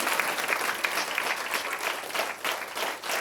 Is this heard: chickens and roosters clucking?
no